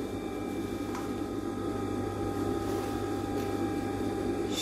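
A sewing machine runs steadily while stitching a seam on a vintage dress, the fabric held taut; an even, continuous mechanical hum with a faint rattle carries on alone, with no talking.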